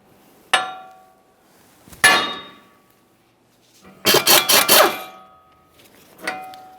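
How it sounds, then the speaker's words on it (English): Several distinct hammer taps on a front wheel bearing and hub assembly being driven out of the steering knuckle of a 2013-2020 Ford Fusion, single sharp metallic knocks spaced apart, then a quick burst of five rapid blows, then one more tap. "you can lightly tap on it with a hammer a few times"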